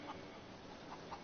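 A chicken in Far Cry gives a few faint, short clucks over continuous game ambience.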